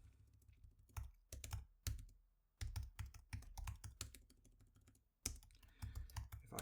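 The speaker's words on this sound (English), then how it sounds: "if I type in the words" Rapid clacking of keys on a computer keyboard, close and clear, in quick bursts separated by short pauses, with no voices.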